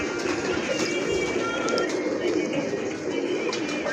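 Pigeons cooing, prized long-tailed show birds, in a loft with a steady low murmur of soft coos and fluttering close by, faint background noise throughout.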